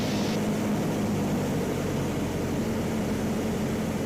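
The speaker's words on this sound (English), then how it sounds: "this airplane will settle in real nice" Small propeller airplane on landing approach with power pulled back, a steady broadband engine and wind drone holding evenly throughout at close range, with no voices.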